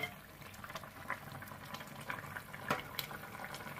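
Fried Pabda fish simmering in a Bengali-style curry in a pan, a soft continuous bubbling and sizzling hiss with occasional small pops, close but quiet, no voices.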